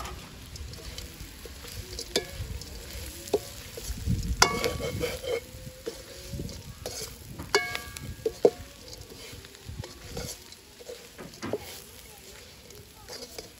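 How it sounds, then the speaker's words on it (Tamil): Onion frying in a pan for upma with fried eggplant, carrot and potato tossed in, giving a steady low sizzle with stirring scrapes and clinks, a louder burst near the middle as the vegetables go in. "இப்போ வெங்காயம் வதங்கிட்டு நாங்கள் பொறிச்சு வச்ச கத்திரிக்காய், கேரட், மற்ற உருளைக்கிழங்கு அதையும் போடுவோம்."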